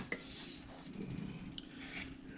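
A knife blade shaves and carves a wooden figure, smoothing off old duplicator marks. It makes a faint, steady scraping rasp with a few light clicks of the blade, heard close and alone.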